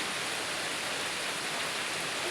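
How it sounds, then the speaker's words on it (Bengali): Rain falls outside as a constant broadband hiss, close and fairly loud, unbroken and with no talking. "দেখছেন বৃষ্টি পড়ে"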